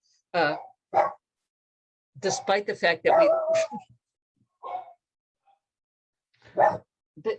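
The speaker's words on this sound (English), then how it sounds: "the dogs in our family, whom you just heard barking, they're barking again" Dogs bark in short bursts from nearby, interleaved with a person talking; several sharp yelps and woofs stand out between pauses.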